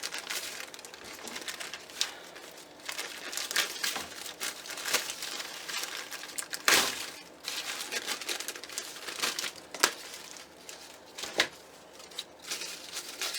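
Plastic wrapping crinkles and crackles as it is pulled off cotton for a reindeer sleigh decoration, with continuous close rustling broken by sharper tearing snaps.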